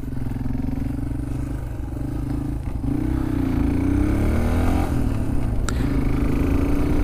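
Yamaha XT225 motorcycle engine idling, a steady low chugging thump with a faint rise in pitch midway, loud and close, with no talking.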